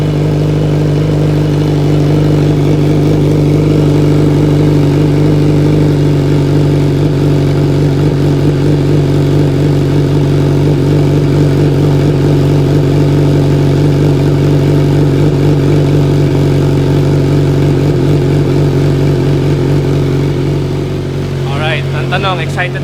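A Kawasaki big bike idles steadily through its exhaust, a loud, deep, continuous engine rumble that runs close and unbroken, with a brief sharper burst near the end.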